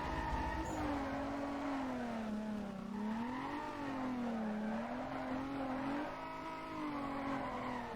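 Toyota Supra engine in the racing game Need for Speed Most Wanted, a steady droning hum that rises and falls in pitch with throttle, loud and continuous with faint tire noise and no talk.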